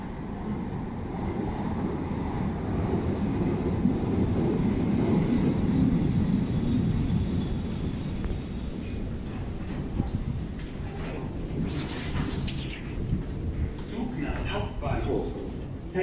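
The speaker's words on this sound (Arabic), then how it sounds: "القطار بعد دقيقتين يلا يجي" A Frankfurt U-Bahn subway train arrives at a station with a loud, steady low rumble and rushing noise that builds and then eases, with squeals and rattles near the end. Voices can be heard faintly.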